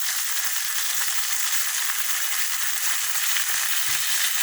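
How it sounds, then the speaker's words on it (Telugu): Onions and eggplant fry in a hot pan with a steady, dense sizzle and hiss that runs unbroken throughout, close and fairly loud, with no talking. "ఈ ఉల్లిపాయలు వేగుతూ ఉన్న టైంలోనే మనం వంకాయ కూడా వేసేస్తాను"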